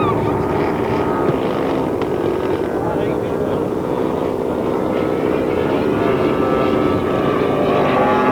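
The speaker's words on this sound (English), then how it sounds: "This really is an extremely quiet model with its 7-cylinder Seidel engine." A model aircraft with a 7-cylinder Seidel radial engine drones steadily overhead, a smooth, even hum held throughout at a moderate distance, notably quiet for its size.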